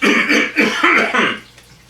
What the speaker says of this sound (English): I've noticed I've had this raspy cough all day.